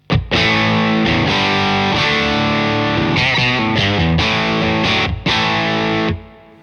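Heavily distorted electric guitar through a Morgan MVP66 amp with its boost fully engaged, high gain, playing sustained chords and riffs loudly, with a brief break near the end before a final ringing chord.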